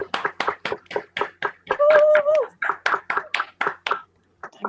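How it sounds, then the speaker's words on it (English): Rhythmic clapping from people tuned in to a live stream, steady quick beats of about three or four per second, with a brief tonal hum partway through. "It's really, really, really weird to hear people clapping in your ears."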